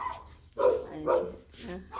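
Children at a summer swimming class imitate dog barks with their voices, a few short yelping bursts close by amid chatter.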